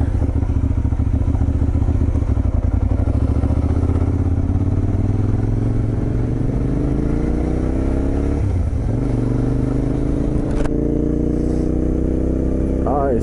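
A motorcycle cruising on NC 209, The Rattler, ridden by a beginner on a first bike, its engine droning loud and steady throughout, pitch rising and falling with throttle changes, plus wind rush.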